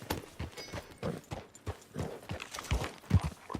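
Horse hooves clip-clop at a walking pace in Red Dead Redemption 2, a soft, uneven string of thuds fairly close by, with faint game ambience and no speech.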